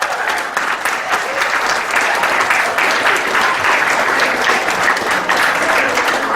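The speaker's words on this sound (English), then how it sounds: "Let's give them a round of applause." Loud, sustained applause from a close crowd at an alumni party after a song, a thick wash of clapping that stays strong from start to finish.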